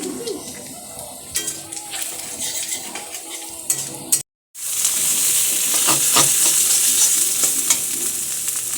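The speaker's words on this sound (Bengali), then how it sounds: "আর এইটাতে কালো জিরা পেঁয়াজ দিয়ে কষাবি হ্যাঁ।" Onion and black cumin sizzle loudly in a hot pan as a utensil stirs and scrapes, with scattered clinks first, a brief silent break, then a steady, dense frying hiss.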